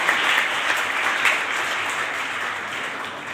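A crowd at a closing ceremony for a talent competition claps loudly and continuously in honor of Hariom Kaushik, a dense, even wash of applause that fades slightly toward the end.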